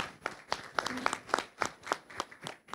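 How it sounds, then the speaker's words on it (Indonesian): A small conference audience claps in a loose, uneven rhythm, with distinct individual hand claps close by and no voices over them. "Tepuk tangan dulu,"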